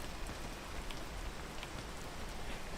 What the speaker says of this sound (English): Oh, why is it raining?